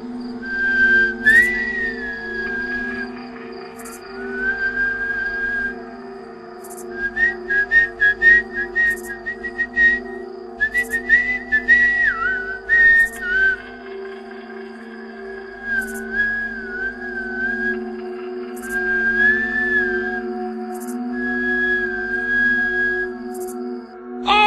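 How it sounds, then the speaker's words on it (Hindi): Cheerful, melodic whistling by one person, phrases of rising and falling notes with short pauses between runs, clear and fairly close, over a low steady background hum. "खुशी की, जैसे सीटी बजाने वाला बेहद खुश है।"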